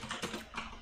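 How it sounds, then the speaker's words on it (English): Quiet, rapid clacking of keys on a computer keyboard, several keystrokes in quick succession over a soft room background, with no talking. "I do this so I can practice typing in Dutch more"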